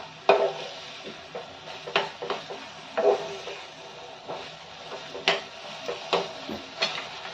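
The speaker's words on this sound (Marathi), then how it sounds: "मी चांगले सुकेपर्यंत याला परतून घ्यायचं" Cabbage and peas sauté in a pan over a low-to-medium flame, with a soft background sizzle broken by irregular scraping and clinking of a spatula stirring the vegetables up close.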